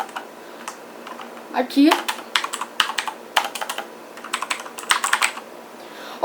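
Keys on a Redragon mechanical keyboard are pressed in irregular clusters of sharp clicky taps at close range, with a brief spoken word and a little handling noise.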